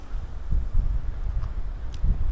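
Strong gusting wind buffets the microphone on a lakeshore during shore casting with lures, a steady low rumble swelling in irregular bursts, loud and close, with no voices.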